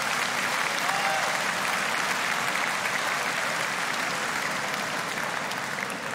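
Steady applause from a boxing arena audience fills the whole stretch as a title fight round ends, a dense, even wash of clapping with no break.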